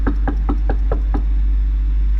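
A person imitates a knock on a front door by rapping six quick, even knocks in a row, close and sharp over a steady low hum, then silence.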